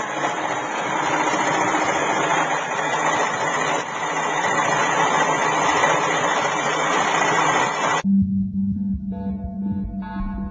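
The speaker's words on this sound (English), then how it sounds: "The engine's going to go way up." A homemade fuelless engine runs with a steady mechanical drone and broadband hum for about eight seconds, then cuts to a quieter, lower-pitched hum with a thin tonal whine.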